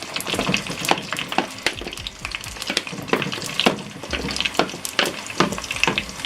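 Chopped onions frying in a hot pot for a cassava and beans dish, a steady close sizzle broken by frequent sharp clicks and scrapes of stirring, with no talking.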